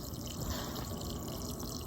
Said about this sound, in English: The little stream is bubbling